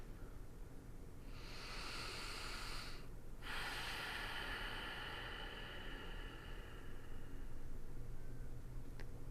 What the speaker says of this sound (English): start to deepen your breath.